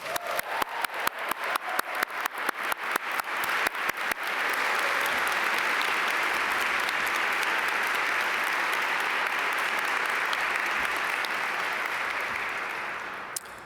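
Graduation ceremony crowd applause swells after a few scattered claps and then holds as a steady, full wash of clapping before fading slightly.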